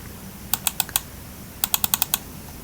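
A computer mouse clicks while working in MS Word, two quick bursts of sharp, close clicks, four then six, over a quiet room with no talking.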